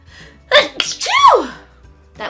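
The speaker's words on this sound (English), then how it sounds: "it got me sneezing" A single close, loud sneeze with a sharp intake and explosive burst, followed by a short trailing sound, set off by the plastic smell of a Bare Minerals makeup product being unboxed.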